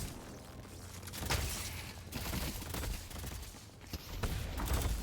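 Rapid gunfire bursts from the hero shooter video game Deadlock, loud and close, with dense overlapping shots and sharp impacts running almost continuously throughout.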